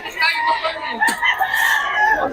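Chickens at a market in Bocaue, clucking and crowing amid a busy crowd, with people talking close by over the birds.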